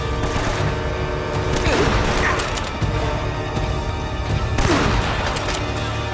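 Dense, continuous gunfire from revolvers, sniper rifles and shotguns fills a firefight in Uncharted: Drake's Fortune Remastered. Overlapping shots and impacts keep up a loud barrage throughout, with heavier bursts near the middle and end.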